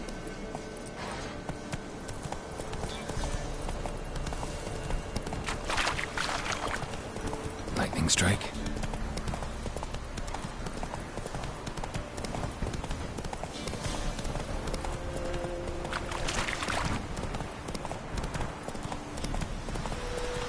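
Roach, Geralt's horse in The Witcher 3: Wild Hunt, trots with steady hoof clops under ambient game sound and voices. The hoofbeats run throughout at moderate level, with a sharp crack midway.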